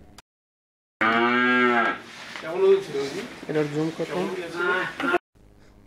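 A cow on a small farm gives a long, loud, close moo followed by further drawn-out lowing calls, with the sound cutting off abruptly into near silence.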